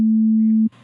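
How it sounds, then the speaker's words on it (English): A steady pure synthesized sine wave tone holds for under a second, then cuts off abruptly into faint background noise. "this is the sound of the sine wave."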